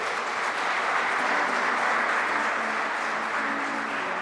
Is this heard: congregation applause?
yes